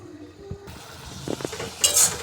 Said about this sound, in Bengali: এবারে ঢাকা দিয়ে দিচ্ছি।